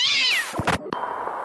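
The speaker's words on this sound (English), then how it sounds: "Here, have a kitten." A kitten meows once, a bright drawn-out cry up close, followed by a few short bumps and a quieter tail of sound.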